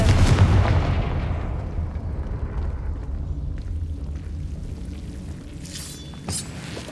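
A Confringo fire spell explodes in Hogwarts Legacy with a loud, booming blast that rolls off into a long rumbling decay, followed by faint crackling debris.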